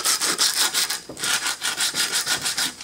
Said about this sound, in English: I like to sand in kind of a circular motion around